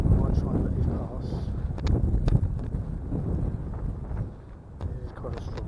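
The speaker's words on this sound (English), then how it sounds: "as soon as I say that, get a bit of a gust" A strong outdoor gust of wind buffets the microphone with rough, fluctuating rumble for several seconds, easing slightly near the end.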